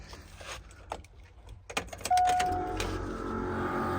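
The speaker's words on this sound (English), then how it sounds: "When I hit the key, compressor should go on" Twin air suspension compressors on a truck kick on as the key turns, a sudden steady mechanical hum that starts midway after jangling keys and clicks and then runs continuously.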